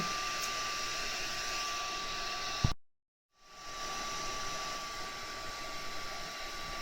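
Hot air from a heat tool blows steadily on a paper clay piece to dry and melt its finish, a loud continuous whoosh that cuts out briefly and then resumes alone.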